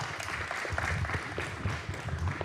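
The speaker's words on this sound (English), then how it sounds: "I think you need to give a clap." A conference audience gives steady applause, a dense, even patter of many hands clapping without a break.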